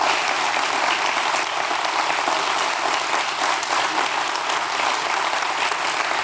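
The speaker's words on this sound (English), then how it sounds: "please, another round of applause for Dr. Rebecca Hillenberg" An audience at a city address applauds a speaker, with a dense, sustained wash of clapping from many hands, loud and unbroken.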